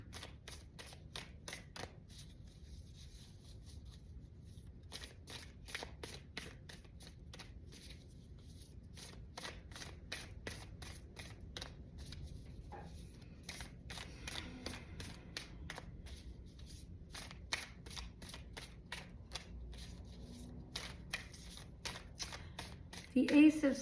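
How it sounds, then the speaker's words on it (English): Soft tarot card shuffling, a steady run of quick riffling flicks with a faint low hum beneath, close and fairly quiet. "Just going to shuffle a little bit more."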